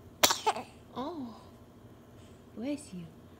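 A baby sneezes twice in quick succession near the start, sharp and close, followed by soft cooing and an adult's gentle voice afterward.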